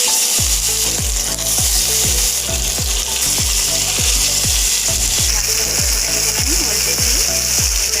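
Fish frying in hot oil in a pan makes a loud, constant sizzle, with regular tapping or scraping strokes repeating every fraction of a second.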